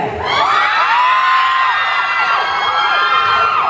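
A large crowd screams and cheers continuously at a car show performance, loud shrill shrieks and whoops layered over one another without a break.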